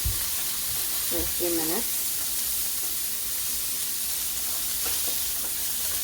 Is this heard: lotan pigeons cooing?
no